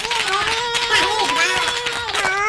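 Clapping for the father at a Christmas Secret Santa gathering, lively hand claps mixed with excited voices and shouting, continuous and close.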